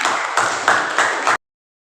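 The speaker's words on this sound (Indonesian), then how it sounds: "tepuk tangan dulu dong" Audience clapping in a classroom lecture setting on faith in Allah, a brief burst of dense applause swelling in a few pulses before cutting off abruptly into silence.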